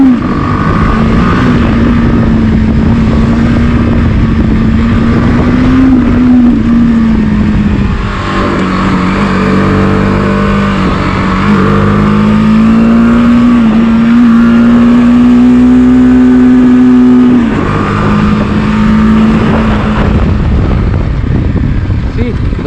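A 2021 BMW G 310 R BS6 motorcycle on a test ride holds a steady, close engine drone. The revs dip and climb again midway, with wind rush in the background.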